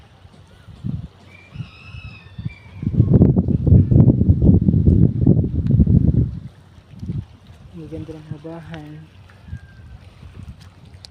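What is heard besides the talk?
wind at the beach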